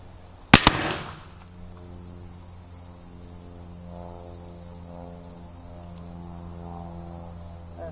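A CVA muzzleloading rifle loaded with homemade black powder fires one sharp, loud shot with a short booming tail, followed by a steady outdoor hum of crickets and insects.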